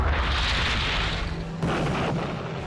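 Dense, roaring blasts of aircraft-fired rockets rumble continuously, with a fresh burst of explosive noise partway through, loud and close like heavy rocket impacts on tanks.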